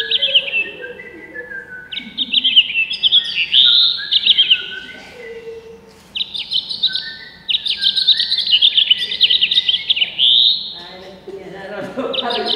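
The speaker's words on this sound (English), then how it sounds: "it sounds like a finch without a buzz, sounds like a finch with a buzz" A finch-like songbird sings loud, close, buzzy phrases, bright rapid trills and warbles repeating in bursts with brief pauses between them.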